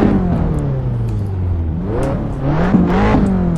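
Fiat 500 Abarth engine in the racing game Assetto Corsa, revving up and down through gears with a buzzy, fairly loud engine note and no talking.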